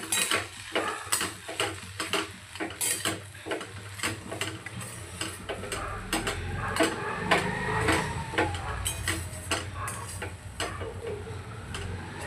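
A spoon stirs freshly made rava upma with chopped coriander in a pan, producing repeated light ticks and scrapes against the metal at a steady pace, close and fairly quiet, with no talking.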